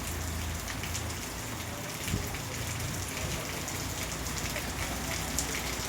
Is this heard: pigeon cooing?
no